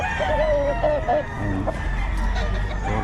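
Gamefowl rooster of the Sweater breed crowing at a Bocaue poultry market in the Philippines, a loud close crow over steady crowd noise, with someone talking briefly.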